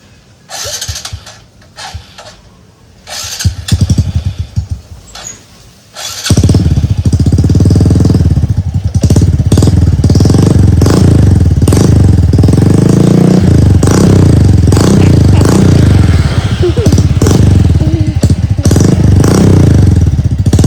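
Honda Wave 125 motorcycle fitted with a swirl-type Jecspeed 57 exhaust pipe: a few light blips and clatter at first, then the engine runs loud and steady, close up, with repeated revs rising and falling for the rest of the clip and no talk.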